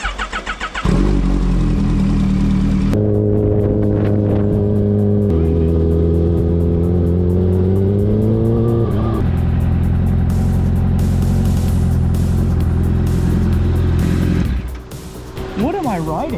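A rebuilt 2023 Kawasaki Ninja H2 motorcycle revving and accelerating up close, engine pitch climbing through several gear steps with loud sustained roar, voices talking briefly at the start and end.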